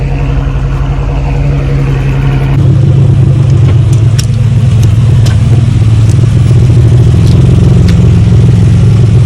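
A 700 hp Mercedes-Benz C63 AMG rumbles loud and close as it is driven out. A deep, steady engine drone thickens into a heavier, rougher note a few seconds in and holds to the end.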